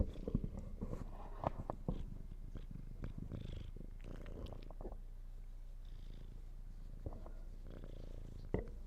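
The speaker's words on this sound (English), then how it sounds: "I wonder, can I get some purrs on the mic?" A cat purring close to a microphone, a low rumbling purr with irregular louder bumps and rustles, quiet overall and without talk.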